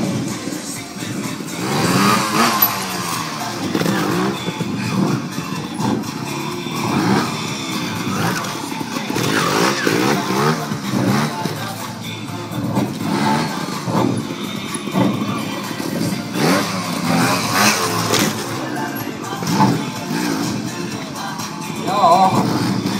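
Trial motorcycle in a riding show, engine revving and surging continuously as it bounces over walls and obstacles, loud and close with broad engine noise throughout.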